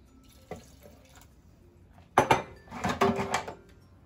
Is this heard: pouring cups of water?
yes